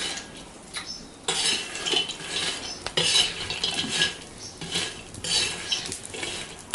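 Groundnut pods roasting in a pan on a wood-fired stove, stirred around with a metal utensil in bursts of scraping and clinking, with a light crackle underneath and close, fairly quiet pickup.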